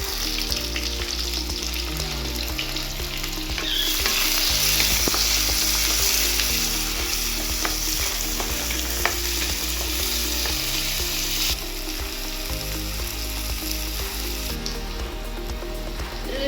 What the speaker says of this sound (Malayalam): ഇതൊന്ന് മൂത്തതിന് ശേഷം സവോള ഇട്ടൊന്ന് വറുത്തെടുക്കുക.